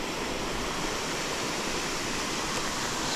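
A waterfall on a steelhead fishing river roars as a steady, broadband wash of falling water, constant and fairly close, with no voices over it.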